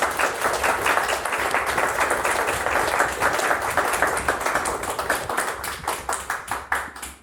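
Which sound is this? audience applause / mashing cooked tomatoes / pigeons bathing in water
audience applause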